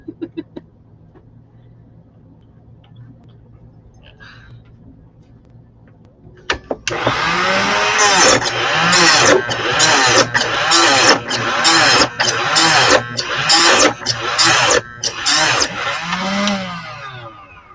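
After several quiet seconds, a power saw with a dull old blade bites in loudly with a rough, grinding roar that surges and strains in uneven bursts while cutting a small piece.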